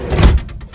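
The side load door of a VW T4 camper van slides and shuts with one loud, close, heavy thud followed by a brief rattling fade.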